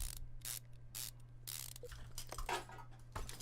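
A brake caliper is fitted in the Car Mechanic Simulator 2015 video game, a series of short, close mechanical ratcheting clicks and clunks in separate bursts over a faint low hum.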